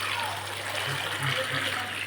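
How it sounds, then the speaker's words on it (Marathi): Tap water pours into a container to wash large potatoes in a home kitchen, a steady close gushing rush with brief splashes and no voices. "त्याच्यात पाणी टाकून घेते."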